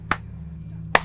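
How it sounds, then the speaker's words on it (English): Two sharp hand claps about a second apart, crisp and close over a low steady hum, used to sync a recording. "We need one clap."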